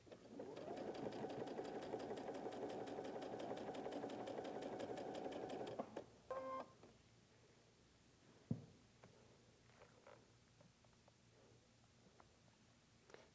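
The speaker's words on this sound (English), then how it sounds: "I'm going to sew it with the seam up, just in case any seams flip over" Sewing machine stitching quilt block fabric, running steadily and close for about six seconds, then stopping, followed by faint handling sounds and one soft knock.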